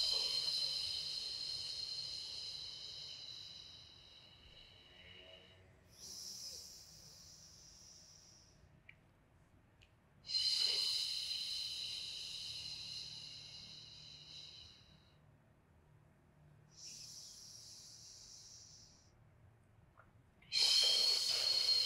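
Slow, deep breaths during a beginner pilates exercise, heard close up as soft, airy hisses spaced several seconds apart, with quiet gaps between each inhale and exhale.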